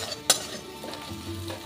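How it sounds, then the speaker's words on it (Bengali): Chopped onion fries with a bay leaf in hot oil, a soft close sizzle broken by two sharp scraping stir strokes, one early and one at the very end. "তেজপাতা দিয়ে আমি এখানে একটা কুচো পেঁয়াজ ভেজে নেব।"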